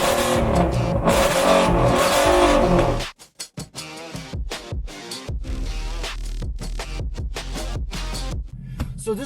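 A Ford Mustang GT Coupe California Edition roars with a loud, sustained engine rev, then cuts off and blips its throttle repeatedly in close, punchy bursts.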